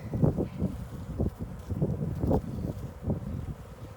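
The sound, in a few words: wind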